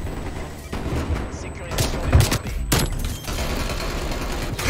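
A pump-action shotgun fires in Call of Duty: Black Ops Cold War, several sharp, loud blasts spaced a second or so apart amid other gunfire and game noise, with someone talking over it.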